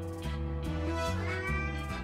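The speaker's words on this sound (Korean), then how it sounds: "이번에도 역시 고양이 소리에 즉각 반응하는 스토미" A cat meows repeatedly in drawn-out, wavering cries, close and fairly loud, with a steady low hum underneath.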